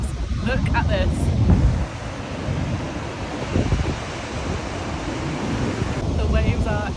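Ocean surf rolls and crashes at Nazaré, Portugal, with a continuous roar and heavy wind buffeting the microphone. Brief voices can be heard over the surging water.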